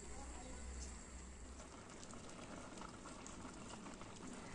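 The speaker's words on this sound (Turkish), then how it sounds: "Ortalama 25 dakikadır reçel kaynamaya devam ediyor." Apricot jam simmering in a pot, a soft steady bubbling and hissing texture that runs continuously and fairly faintly throughout.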